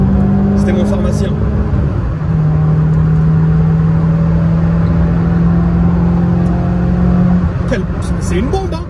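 A Renault Clio 16S accelerating hard under open throttle, its engine rising into a sustained loud drone with a strained whine, heard from inside the cabin with sharp clicks near the end.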